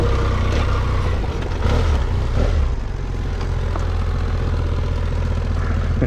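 An enduro motorcycle engine runs steadily and loudly at close range on a Morocco riding route, a continuous low rumble with brief revs and no talk.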